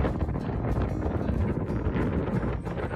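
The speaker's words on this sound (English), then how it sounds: "it was just so windy" Strong gusty wind buffets the microphone in Miaoli County, Taiwan, producing a loud, continuous low rumble and roar with uneven surges throughout.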